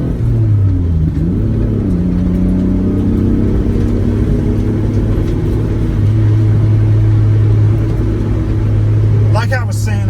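A Mitsubishi 3000GT engine rumbles and revs steadily, loud and close, with gravel road noise underneath, while someone talks over it.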